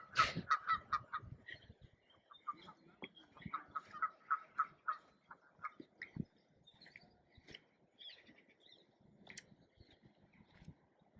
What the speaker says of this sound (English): Well, apart from the ducks there, I'm not sure what they're on about.